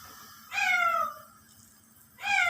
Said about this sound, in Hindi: ये बिल्ली हमारी ने हमें तंग किया हुआ है